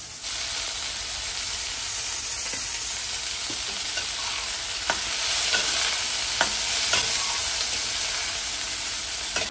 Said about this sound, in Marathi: कांदा मस्त लालसर होईपर्यंत त्याला फ्राय करायचंय